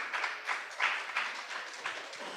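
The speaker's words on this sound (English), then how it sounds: "a round of applause for Vineet from Cypher" Audience applause for a guest at a tech event, a quiet, fairly distant patter of clapping with a few stronger swells, steady across the short stretch.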